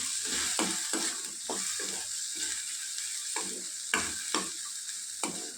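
Vegetable pieces coated with salt, chili and turmeric are stirred in a pan for Maggi veg masala noodles, with a steady sizzle under repeated scraping strokes of a spoon at an irregular rhythm.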